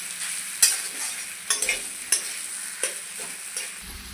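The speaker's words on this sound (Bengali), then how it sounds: "ভালো করে পেঁয়াজ আর লঙ্কার সঙ্গে মিশিয়ে নেব।" Potatoes are stirred with onion and chilli in a frying pan, a soft background sizzle punctuated by several sharp spoon scrapes and knocks against the pan at irregular intervals, close up and without speech.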